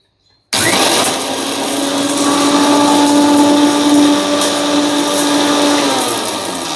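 A mixer grinder starts abruptly after a brief silence and runs loud and steady with a whining motor hum as it grinds fresh tea leaves in a large jar, then eases off slightly toward the end.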